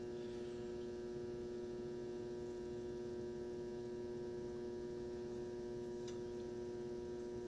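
Steady low electrical hum from a 1966 Frigidaire Rollermatic washing machine, faint and unbroken throughout with no other sounds.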